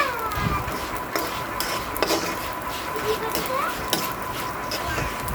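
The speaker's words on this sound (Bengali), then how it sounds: "এটা হচ্ছে চিরাটাকে এভাবে ভেজে নিব তেলের মধ্যে" Flattened rice (chira) fries in oil, a moderate sizzle with frequent stirring scrapes and utensil clinks against the pan, partly under a speaking voice.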